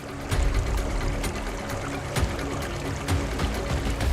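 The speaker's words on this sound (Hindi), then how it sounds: "पीछे की तरफ पहाड़ बहुत ऊंचा और विशाल था, जहां से झरने का पानी ऊपर से बहते हुए आ रहा था।" Waterfall stream water flowing down a tall mountainside near old fort ruins, a steady rushing, pouring wash with small splashy surges, moderately loud and continuous with no voices.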